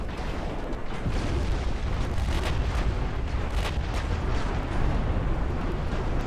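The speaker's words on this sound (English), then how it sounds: "Come on, keep the gun cycling, boys" Battleship guns in Ultimate Admiral Dreadnoughts fire steadily, a continuous heavy rumble of distant booms and blasts layered together, with sharper cracks poking through now and then and no speech.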